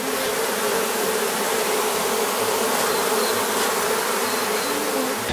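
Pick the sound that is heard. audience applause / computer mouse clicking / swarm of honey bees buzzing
swarm of honey bees buzzing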